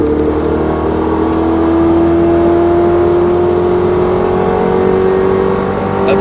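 A race car accelerates hard on a track at Speed Vegas, its engine holding a loud, close, steady drone whose pitch climbs gradually as it pulls.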